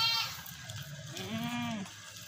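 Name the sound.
Rajanpuri goat bleating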